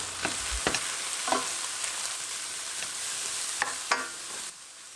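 Eggplant pieces fry in a pan with a steady broadband sizzle, broken by a few sharp clicks and scrapes of stirring, close and fairly loud throughout, then easing slightly at the end.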